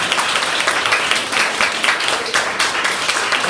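A school audience in Tikhvin, Russia applauds at a medal award ceremony: dense, lively clapping from many hands that stays steady and loud throughout.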